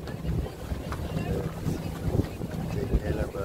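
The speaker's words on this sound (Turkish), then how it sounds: "Evet, tekneyle beraber gidiyoruz." A tour boat moves across the water of the Dodecanese islands with a low engine rumble, wind buffeting the microphone and splashing throughout, with voices faintly underneath.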